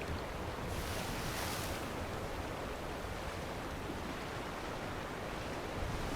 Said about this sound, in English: I like the more realistic rolling of the ocean